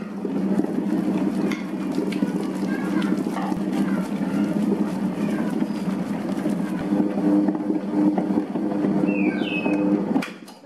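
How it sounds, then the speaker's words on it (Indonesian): An electric dough mixer kneads bread dough for banana bread, a loud, steady mechanical drone with a low rumble that runs unbroken, then cuts off abruptly at the end. "Mesinnya saya nyalakan, lanjut mengadon sampai betul-betul kalis."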